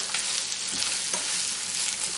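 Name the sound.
ingredients frying in a pan for prawn curry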